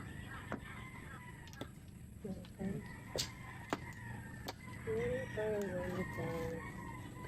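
Chickens cluck steadily and a rooster crows nearby, with faint voices in the background.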